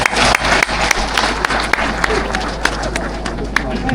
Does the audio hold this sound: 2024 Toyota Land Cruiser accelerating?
no